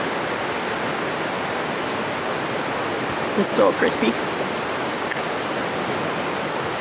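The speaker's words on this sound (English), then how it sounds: "You probably don't want to hear the river" A river flows steadily through a Canadian forest in autumn, a constant broadband rush present throughout, while a person speaks briefly over it near the middle of the clip.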